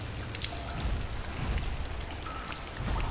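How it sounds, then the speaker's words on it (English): Steady rain from the video game Lies of P falls with a dense, even patter and scattered drops. The sound is fairly soft and continuous, with no voices. "Concentrate on the rain to bring you in the game."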